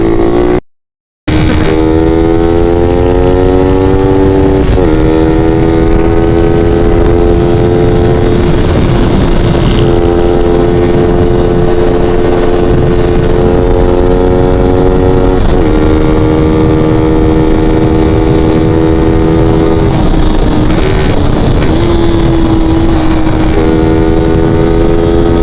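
Yamaha NMAX motorcycle with a dual-exit Viper exhaust pipe, idling and revving close by for a long stretch, its engine note repeatedly rising and settling, loud and continuous.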